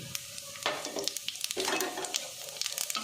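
Nigella seeds (kalo jire) land in hot oil with a lively crackling sizzle that holds steady near the pan, broken by sharp pops and the clink of a stirring spoon.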